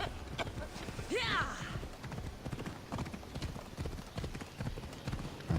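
Horse hooves clip-clopping in Assassin's Creed Odyssey, a rapid, rhythmic run of hoofbeats with a brief whinny early on, mixed under game sounds and some speech.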